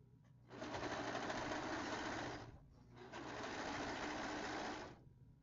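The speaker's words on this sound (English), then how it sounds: "I am just serging the top shoulders and everything right now" A serger sewing machine runs in two steady, loud bursts as it stitches the shoulder seams of a quilted jacket, with a short pause between them.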